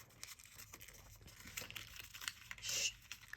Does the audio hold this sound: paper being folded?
yes